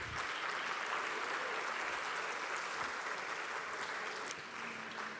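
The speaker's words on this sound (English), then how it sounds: "one more round of applause, please" Conference audience applauding a panel of speakers at the NETmundial+10 meeting, a continuous, fairly distant wash of clapping from a large hall that tapers slightly near the end.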